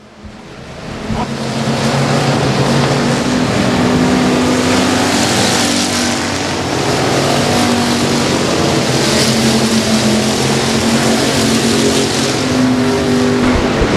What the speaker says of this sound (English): As off of turn number 4 right now, Lindsey, his first start at Boot Hill in quite some time, looking very, very good there in 27L